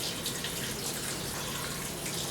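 Rinsed sushi rice drains in a bowl as water runs off in a steady, close hiss and trickle, continuous and alone without any talk.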